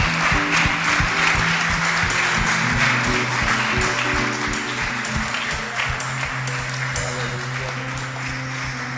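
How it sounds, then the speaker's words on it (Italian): A church congregation applauding during an evening worship service, steady clapping from many hands over sustained musical tones, continuing at an even level throughout. "Facciamo un applauso al Signore per questo spirito che sta mandando questa sera in mezzo a noi."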